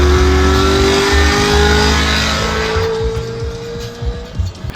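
A 2008 BMW M3 with a manual gearbox and V8 engine revs up loudly nearby, a steady rising engine drone with a clear pitch sweep, easing off near the end.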